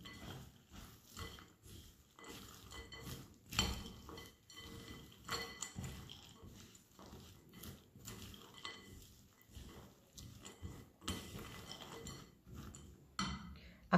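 A small spatula mixing sieved cocoa powder in a bowl for panpepato makes soft, repeated scraping and tapping strokes against the bowl, faint and close, with no other sound.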